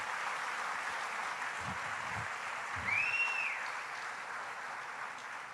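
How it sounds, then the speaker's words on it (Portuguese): A church congregation claps, a broad steady wash of applause from many hands, moderately loud and sustained, with a faint whistle-like tone rising briefly in the middle. "Dá uma salva de palmas a Jesus."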